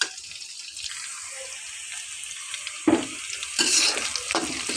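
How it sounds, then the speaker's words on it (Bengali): Onions frying lightly in oil in a kadai, a soft hiss with a few scrapes and clatters of stirring, growing louder and busier toward the end; no voices. "হালকা একটু ভেজে নিয়েছি।"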